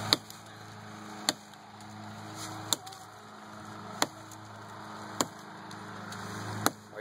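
Sharp axe strikes hit wood about every second and a half, five or six evenly spaced chops against a low steady background hum.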